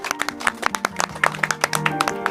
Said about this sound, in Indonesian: Boleh tepuk tangan untuk Pak Kris?